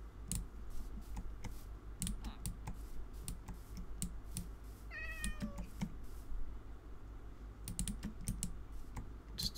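A Minecraft cat gives a short meow in the middle of a stretch of constant computer keyboard and mouse clicking, close up, over a low steady hum with no talk.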